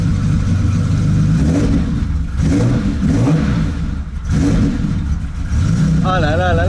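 Engine of an old vintage car revving repeatedly, loud and close, each throttle blip swelling and falling in a rough, pulsing roar, with someone speaking excitedly between revs.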